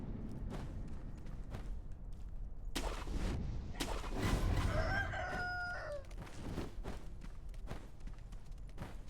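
Rooster crowing in the video game Sekiro, a loud drawn-out cock-a-doodle-doo rising over game ambience and sharp impact sounds.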